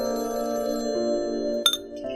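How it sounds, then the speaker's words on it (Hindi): A telephone rings at home in a steady electronic ringtone, a held multi-tone warble continuing for about two seconds at moderate level with a brief click near the end. "फोन आ गया पापा, पकड़ो।"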